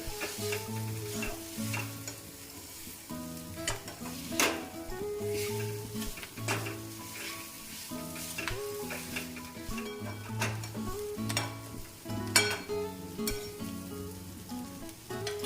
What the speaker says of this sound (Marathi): आता हे मिश्रण आपण मिक्स करूया चांगलं